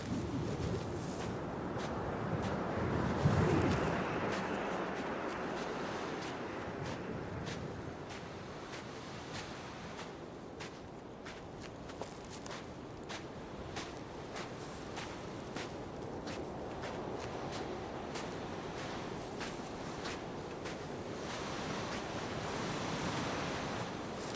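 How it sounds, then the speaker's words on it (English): Ocean waves in the video game Dear Esther roll in as a steady soft wash, swelling near the start and then settling into a constant quiet surf with wind and occasional faint footsteps. "Just love the subtle sound effects and the sound of the ocean."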